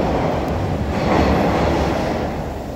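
A subway train rumbles steadily through a Toronto subway station on a northbound line, its loud, continuous roar of wheels and cars filling the space without pause.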